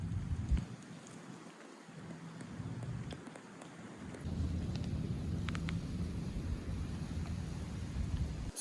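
Wind gusts across a hilltop during a Pennsylvania rifle-season deer hunt, a steady rushing buffet on the microphone that lulls briefly then strengthens and holds, with no voices.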